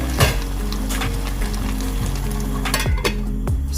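Garlic naga pickle with raw mango and lime sizzling in a pot, a loud steady bubbling fry with occasional clinks and scrapes of stirring.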